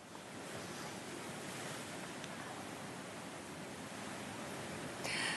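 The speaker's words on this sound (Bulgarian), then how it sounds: "Зад мен морето е бурно, много красиво, доста шумно, но все пак красиво." Stormy sea waves roll onto the shore at Sozopol as a continuous broad rushing roar, steady and fairly loud, with wind buffeting the microphone and no talking.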